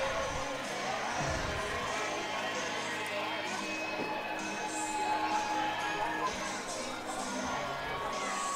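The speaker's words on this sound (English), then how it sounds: "Packed out crowd here at Shuttleworth Park. Really couldn't ask for a better atmosphere." Packed crowd at a Shuttleworth Park baseball game, a steady distant wash of cheering and crowd noise running the whole time under a close announcer's voice.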